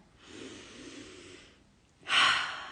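A soft, drawn-out inhale during a guided forgiveness meditation about food and weight, followed after a pause by a second, louder and sharper breath close to the microphone.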